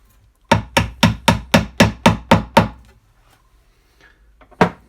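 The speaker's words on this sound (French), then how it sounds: "Il me faut l'aide d'un marteau." Hammer tapping a plastic wall anchor into plasterboard: nine quick, sharp, evenly spaced blows in a steady run, loud and close, then a short pause and one final strike.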